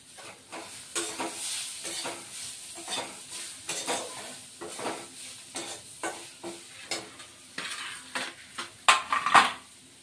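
Chopped green chillies and grated ginger fry in a pan for kachori filling, a low sizzle under repeated rhythmic scrapes and clinks of a spatula stirring against metal, heard close with no talk.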